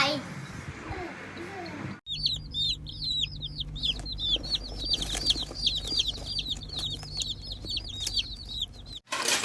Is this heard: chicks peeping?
yes